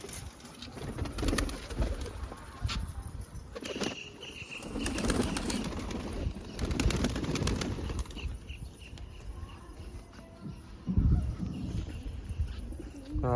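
Pigeons flapping their wings and cooing as a pigeon coop is opened on a rainy day, a busy flurry of wingbeats with scattered calls throughout, close by, with no speech.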